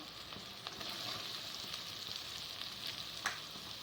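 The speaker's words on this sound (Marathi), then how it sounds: "कांदा टाकूया" Chopped onion frying in a pan for a wild leafy-greens dish (kurdu bhaji), giving a steady soft hiss with faint crackles and one sharper pop near the end.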